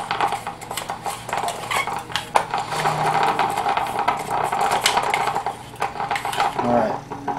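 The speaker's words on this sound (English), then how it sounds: "to get the rest of it, we're just going to scrape it out, and we're going to put that into the carafe" Undissolved sodium chloride is scraped from a basket into a carafe, giving steady close scraping and clinking of a utensil against the container, with repeated metallic scrapes and taps and no talk.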